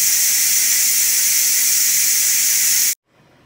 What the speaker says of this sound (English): it took almost 4 minutes, but we have released all the pressure